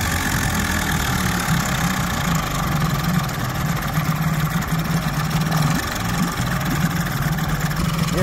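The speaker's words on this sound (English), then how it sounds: "It's idling nicely." A small sailboat engine with a freshly renovated fuel system idles steadily, a close, even low rumble with a fast regular beat that holds for the whole stretch, with no talking.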